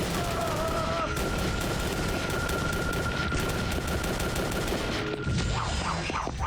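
Gunfire against shotgun snipers in the video game Drake of the 99 Dragons, a dense continuous rattle of rapid shots under a loud game soundtrack with a sustained tone, with a crunching burst near the end.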